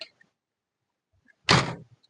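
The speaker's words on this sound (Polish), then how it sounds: "Zamkniemy drugie drzwi, sprawdzimy jak one współpracują ze sobą." A single solid thunk of a Mercedes Sprinter van door swinging shut after a door repair, loud and close against near silence, with only a few faint clicks around it.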